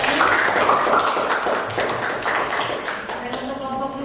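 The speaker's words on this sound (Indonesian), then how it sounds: "Tepuk tangannya mana?" Classroom applause for a student group after its presentation, a brief burst of scattered clapping mixed with children's voices that fades as a teacher's voice continues.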